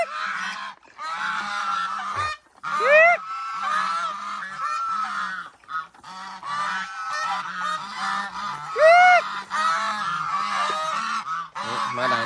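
Geese honk loudly and close in repeated bursts, with overlapping harsh calls and rising squawks continuing throughout the farmyard scene, with no talk.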